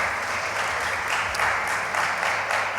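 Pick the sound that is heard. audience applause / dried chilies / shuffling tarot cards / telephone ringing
audience applause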